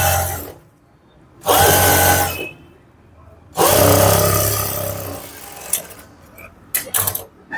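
Sewing machine running an edge stitch along fabric for a puff sleeve, two sustained loud motor runs with pauses between, followed by a few short bursts near the end.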